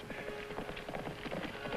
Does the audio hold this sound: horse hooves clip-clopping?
yes